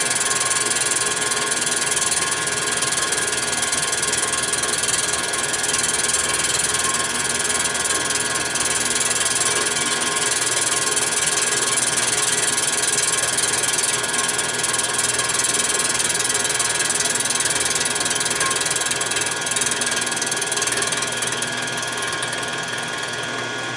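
An M38 Go Devil engine-driven cutter grinds steadily through material as it passes over the crest of a hump, giving a continuous dense mechanical whir with ratcheting texture, loud and unbroken throughout.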